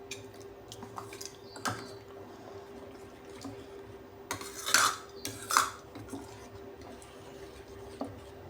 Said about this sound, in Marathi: त्याच्यात थोडं थोडं पाणी टाकून मिक्स करू।